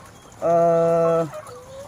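A laying hen lets out one loud, sustained cluck-like call lasting under a second, close by and alone, with only faint barn ambience before and after.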